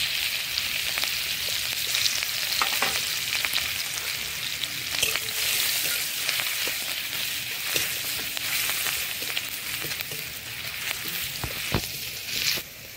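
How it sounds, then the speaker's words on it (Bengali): Ginger and green chilies frying in hot oil with asafoetida, a steady, close crackling sizzle broken by occasional stirring clicks and scrapes, with no voices. "আদাটা ভাজা ভাজা হয়ে গেছে"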